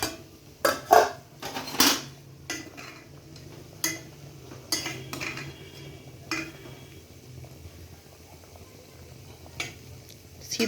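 A lid is set on a pot of drumstick and potato curry, a few metallic clinks up front followed by quieter clatter and a faint simmer.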